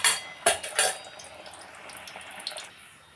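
Sakinalu, rice-flour spirals, slip into hot oil, giving a few sharp clinks and splashes followed by a soft, steady sizzle.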